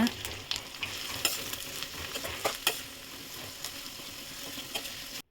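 Steady, close sizzling of onions frying in a hot pan, with occasional stirring scrapes and pops, no voices.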